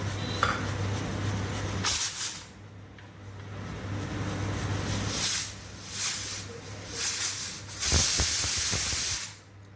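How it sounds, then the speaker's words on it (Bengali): A pressure cooker of soaked chana dal (split chickpeas) vents on the stove, giving several loud, sharp hissing steam whistles, some short and one long, separated by quieter stretches over a steady low hum. "এখন কুকারে 3-4টে সিটি দিয়ে দিচ্ছি"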